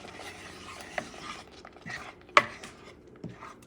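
Thick grits get stirred in a pot with soft, scraping, uneven strokes, faint and close, punctuated by a couple of sharper clicks of the spoon against the pot.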